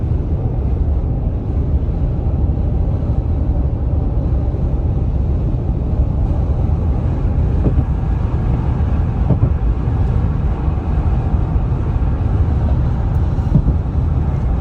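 Steady cabin road noise inside a 2023 Toyota Tundra cruising at about 75 to 77 mph on the highway, a constant low, broadband rumble and hiss with faint occasional bumps and no talk.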